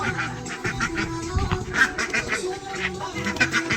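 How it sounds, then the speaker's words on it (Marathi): Ducks quack repeatedly near a hill station in Mahabaleshwar, several birds calling in quick irregular bursts close by, loud and clear with no talk over them. "बदक."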